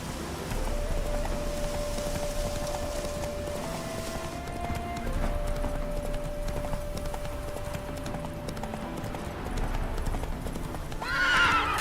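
Roach, a horse in The Witcher 3 video game, gallops with steady rhythmic clip-clop hoofbeats and an occasional whinny over a droning game soundtrack, continuing throughout at moderate loudness.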